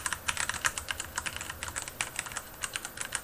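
Typing on a Philco Magistouch mechanical keyboard with Cherry Brown switches, a quick run of soft, close keystrokes in an uneven rhythm, quiet and without voices.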